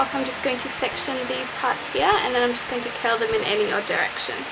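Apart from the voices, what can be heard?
electric fan running in the background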